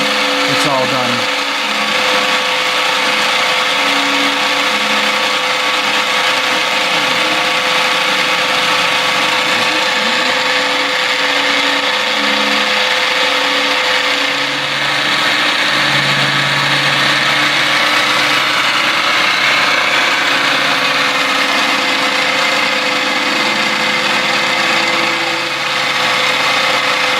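A CNC mill cuts a pocket into a Glock 30 pistol slide, giving a loud, steady, whining machining roar with shifting tonal hums that runs without a break throughout.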